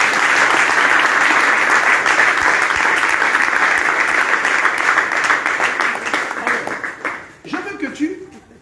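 A church congregation applauding Jesus during a prophetic training service, with loud, dense clapping for about seven seconds that then fades out and gives way to voices.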